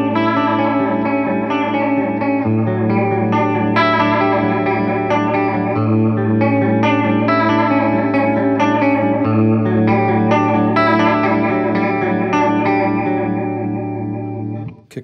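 A Fender American Ultra Jazzmaster electric guitar plays through a modulation effect, with sustained chords and picked notes carrying a wavering, shimmering chorus-like tone, loud and continuous with no talking.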